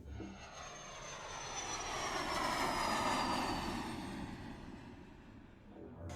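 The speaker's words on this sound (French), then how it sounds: "le tout premier chasseur à réaction produit en série dans notre pays, le MD 450 Ouragan" Jet aircraft engine roar of an MD 450 Ouragan fighter, a steady broad rushing drone that swells toward the middle and eases off, with a faint descending whine on top, heard alone without voices.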